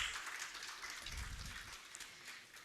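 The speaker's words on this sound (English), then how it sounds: "Audience, please have a round of applause." Soft, distant round of clapping from a conference audience, steady and even, with no voices over it.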